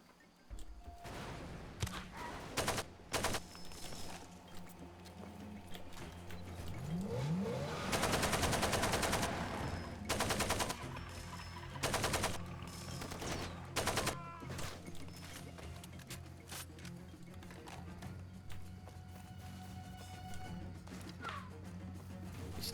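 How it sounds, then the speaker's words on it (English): Enemy gunfire in the video game Far Cry 2 comes as repeated sharp shots and bursts of automatic fire, with a long, dense volley in the middle, set over engine noise and a few crashes. "He's still shooting at me."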